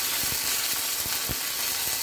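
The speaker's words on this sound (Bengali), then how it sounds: "আদাটাকে একটু হালকা করে ভাজতে হবে" Ginger sizzles lightly in hot oil for a shukto, a steady broadband frying hiss with faint soft clicks from the pan, close and continuous with no voices.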